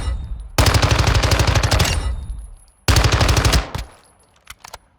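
SMG automatic fire in Modern Warfare 2 2022, with two loud, close, sustained bursts of rapid shots. The first burst runs about one and a half seconds and the second about one second, followed by faint clicks.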